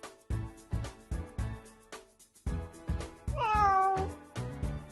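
A female cat gives one drawn-out meow, clear and close, over rhythmic background music with steady beats.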